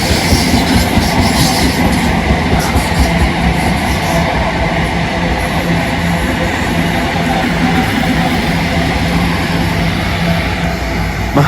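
A Class 325 Royal Mail train rushes past at a station, a loud, steady roar of wheels on rails with rhythmic clickety-clack and faint squeal throughout, close and sustained.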